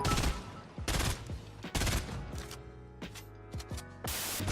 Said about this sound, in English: He's shooting me from the north again.